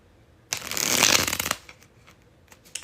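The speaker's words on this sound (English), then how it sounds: "Only the best bridge shuffle for the Leos." A bridge shuffle of a deck of playing cards: one dense, crisp riffle of fluttering card edges lasting about a second, followed by a few soft taps as the deck settles.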